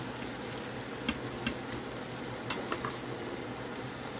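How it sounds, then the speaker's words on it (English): Soft, steady sizzling of sweet corn frying in a pan, with a few light clicks and scrapes of stirring. "it's going to be enough to just start cooking, frying that corn down"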